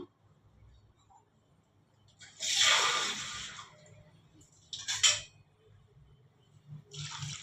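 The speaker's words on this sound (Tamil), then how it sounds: "இனி இதில் வந்து 1 கிளாஸ் தண்ணி ஊற்றணும்." A glass of water poured over cut pumpkin pieces in a pot, heard as two or three close splashing bursts of pouring separated by short pauses, with light background noise between them.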